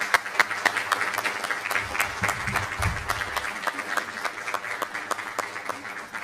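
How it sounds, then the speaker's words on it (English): A school board meeting audience applauds, a steady patter of many hands clapping at moderate volume for about six seconds, with a low murmur briefly underneath. "let's give them a round of applause."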